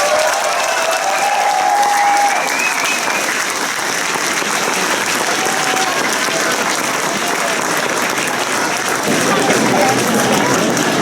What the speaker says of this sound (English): I want to join me in an extraordinary round of applause for Peter Hodne.